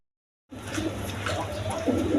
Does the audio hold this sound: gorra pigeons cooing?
yes